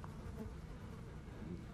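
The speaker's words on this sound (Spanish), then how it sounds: "Está todo lleno de moscas" Flies in a house in the woods in the video game Blair Witch, a brief low steady buzzing drone, faint and continuous.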